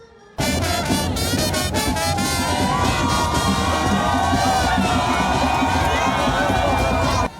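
Large outdoor crowd in Cameroon cheering, shouting and whooping around Emmanuel Macron, a loud dense roar that begins abruptly and holds steady throughout.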